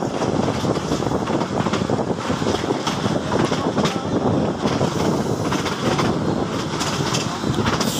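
A DEMU commuter train in Bangladesh rolls past a yellow signal into the loop at Gandaria. A continuous rumble and rattle of the carriage mixes with steady wind buffeting the microphone, loud and unbroken for several seconds.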